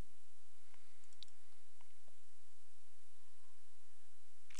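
A computer mouse clicks faintly a few times in a quiet room, including a quick double click, with soft, short ticks and no voices.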